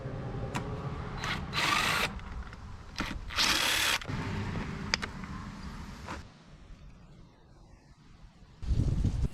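A power tool buzzes in short bursts while 5 mm Allen head bolts come off the exhaust of a 2021 Yamaha MT-07, each whirring spin lasting about a second, with gaps of quieter handling noise between them, close up.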